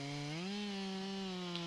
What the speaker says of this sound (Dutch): Ik zaag even een stukje eraf. Je ziet dat er nu veel meer chips en minder stof afkomt van de zaag.